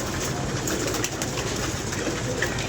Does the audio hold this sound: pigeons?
yes